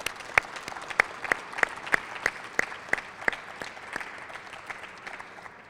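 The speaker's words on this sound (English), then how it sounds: "If we could have one big round of applause for everybody," Thin, scattered applause for scholarship winners at a water utility association event: a small group whose individual claps land as distinct, fairly regular beats before tapering off.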